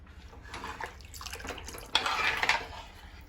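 Wet scraping and sloshing of a spoon stirring thick rice flour batter with palm jaggery syrup in a pan, continuous and close, growing busier and louder toward the end, with no talking.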